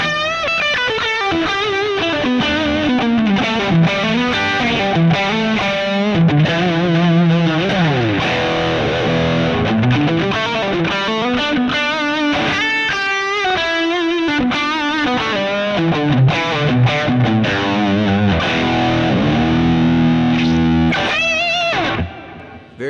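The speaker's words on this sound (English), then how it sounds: "if I throw on a little boosty kind of thing, and I use just my modern-ish guitar here" Electric guitar, a modern-style instrument, played through a Matchless Brave amp with a boost pedal gives a driven, distorted tone. Strummed chords and single-note phrases run continuously for about twenty seconds, loud and close, with no talking.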